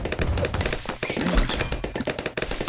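Rapid gunfire from a Dartling Gunner tower in the tower-defense game Bloons TD Battles 2, a dense, loud, continuous stream of machine-gun-like shots with thuds under it, and no voices.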